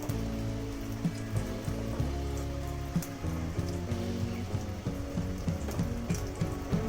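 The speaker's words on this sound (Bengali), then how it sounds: "তেলটা গরম হয়ে গেছে ছেড়ে দিচ্ছি তেলের মধ্যে" Fish roe cutlet mixture dropped into hot oil gives a steady, close, rain-like frying crackle with small pops, running on its own without talk.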